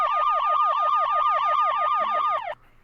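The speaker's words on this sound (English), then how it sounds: "Sounds like a whole fleet of ambulance tonight." An ambulance siren wails in a loud, fast, repeating yelp pattern close by, about a dozen rapid sweeps before it cuts off abruptly, leaving a faint low hum.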